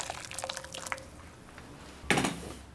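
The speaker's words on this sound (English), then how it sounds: "Just pour over some water from a recently boiled kettle." Recently boiled kettle water is poured over prawns to poach them, giving soft splashing and dripping followed by a sharper burst of liquid near the end.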